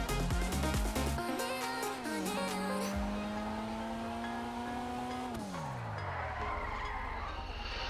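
Dinka Jester Classic in GTA Online driven hard, its engine note climbing and falling through gear changes with tire squeal and skidding, loud and continuous throughout without speech.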